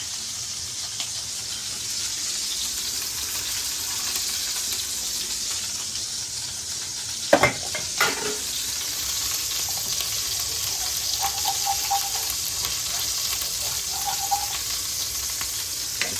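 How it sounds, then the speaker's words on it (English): A steady, soft sizzling hiss of couscous toasting in a hot pan continues throughout, with a couple of brief clatters near the middle and faint scraping stirs. "I think this has been enough time toasting the couscous."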